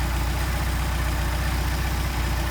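A Mercedes 190SL engine fitted with Solex carburetors idles at about 750 rpm. It makes a steady, close, low rhythmic rumble with even pulses and no talk.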